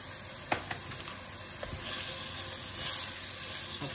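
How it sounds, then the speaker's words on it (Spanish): Paprika sizzling as it is lightly sautéed in oil in a frying pan, a steady close crackle with a few sharp pops and stirring clicks, growing slightly louder toward the end, no voices. "Sofreímos un poquito."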